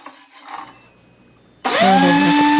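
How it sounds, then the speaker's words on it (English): Power planer taking light passes over a black walnut slab with cured resin: quiet handling noise, then the motor abruptly spins up into a loud, steady high whine with cutting buzz. "with the planer, starting with some very light passes to clean it down just enough to get that resin off"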